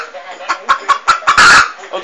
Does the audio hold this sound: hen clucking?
yes